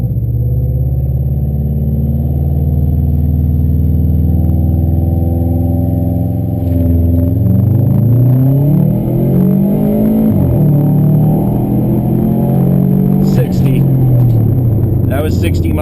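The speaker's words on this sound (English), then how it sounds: "All right, get the revs up." A 2004 Subaru WRX with an automatic gearbox idles, then revs up and accelerates hard from a stop, its engine note climbing through rising sweeps and gear changes, loud and close from inside the car.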